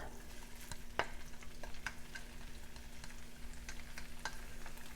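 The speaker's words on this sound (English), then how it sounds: "as this is melting, I'm going to go ahead now and put in my shrimp" Shrimp dropped into a hot pan of melting butter, giving a steady close sizzle with a sharper clatter near the start and faint scrapes scattered throughout, no talking.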